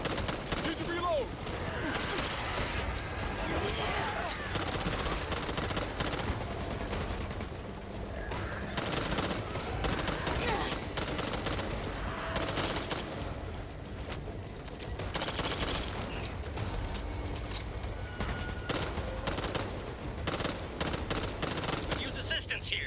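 Rapid gunfire from the video game Back 4 Blood: dense, loud bursts of automatic shots in quick succession under in-game character voices and callouts, continuing across a chaotic firefight.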